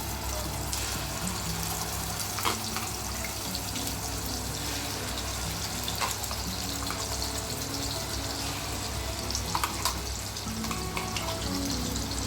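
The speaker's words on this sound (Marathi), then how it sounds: "जिरे तडतरल्यानंतर कांद्याची प्युरी टाकून ब्राऊन कलर येईपर्यंत परतूया." Onion puree hits hot oil with cumin seeds for green peas kheema, giving a steady close sizzle sprinkled with scattered crackles and pops as it fries.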